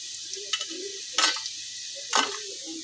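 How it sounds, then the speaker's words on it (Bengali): Potatoes frying in a pan for village-style noodles, a steady low sizzle broken by three sharp bursts of scraping and spatter, close by, with no talk. "এখন আমরা আলু ভেজে নিচ্ছি।"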